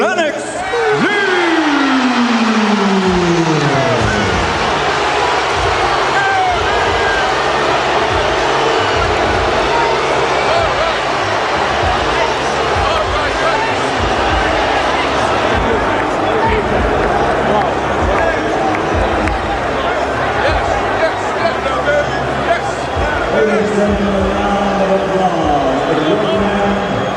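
A boxing arena crowd roars at a split-decision verdict for Lennox Lewis against Ray Mercer, a dense, sustained wash of booing and shouting throughout, with a commentator talking over it.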